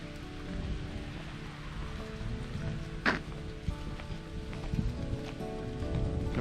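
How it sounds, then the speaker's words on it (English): Steady rain drumming on a car along the Cherohala Skyway in fall, a dense continuous patter heard from inside, with an occasional heavier drop or thunk. "from the car, because it's raining"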